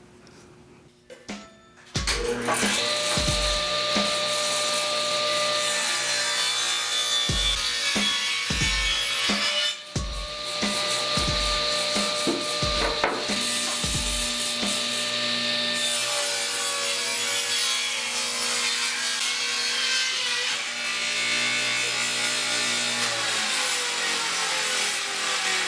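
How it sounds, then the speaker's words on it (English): Table saw blade biting steadily into wood while cutting a rabbet for a nursery bookshelf, loud and close, with a high ringing whine, repeated low thumps as the board feeds through, and a long spin-down hum afterward. "So now that I've got my bevel cut made, I can start cutting out the rabbet."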